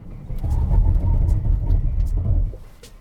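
A 2019 BMW X7 cruises at about 50 miles per hour, giving a steady, loud low rumble of road and engine noise that fades near the end.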